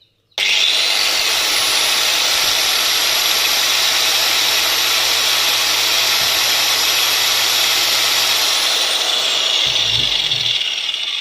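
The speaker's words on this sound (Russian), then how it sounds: "Переходим к болгарке. Я сейчас ее запущу, прокручу хорошенечко" An angle grinder with a freshly greased gearbox switches on and runs at a steady, loud high-pitched whine for several seconds before starting to wind down.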